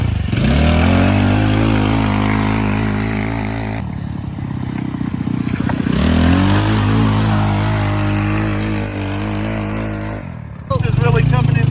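A 2019 XRX Trailmaster 300 go-kart engine revs up loudly in two long rising pulls, easing off between them, with voices talking over the engine noise.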